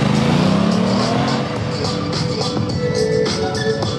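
A motorcycle at a motorcycle show in Montbéliard revs up with a rising engine pitch, then settles into a rough, busy idle among background crowd noise.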